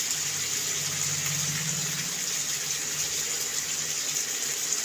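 Warm water flows steadily into a pot of mutton curry, a continuous close gushing hiss that runs unbroken through the whole stretch with no talk.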